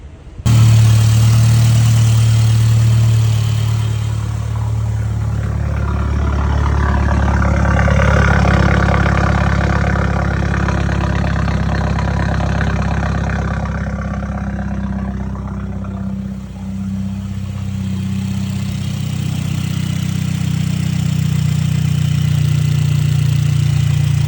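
A 2017 Mercedes CLA 350 with a 2.0 turbo engine, fitted with 850cc AMG 63 injectors, starts up and idles loudly and close, its rumbling drone rising briefly and dipping once over about twenty-four seconds without speech.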